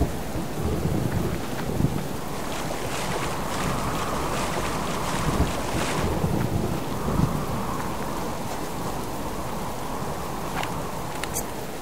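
Heavy rain pours steadily with rumbling thunder rolling through, loud and constant over a dense hiss of wind and water.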